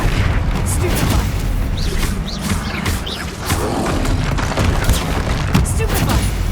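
Spell blasts such as Confringo and Bombarda boom repeatedly during a troll fight in Hogwarts Legacy, a dense string of thumping explosions and pops with voices calling out over them.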